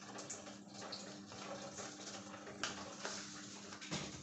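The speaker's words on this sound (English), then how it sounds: "I'm putting small water inside" Water is poured into a cooking pot while spicy kpomo, cow skin, is being made, a soft, steady splashing trickle heard close and fairly quiet, with no talking.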